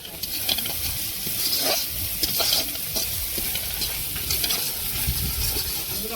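Masala spice paste with cashew and pistachio paste bubbles and sizzles in a pan with splashes of water, a steady close frying hiss broken by the clatter and scrape of stirring, with no voices.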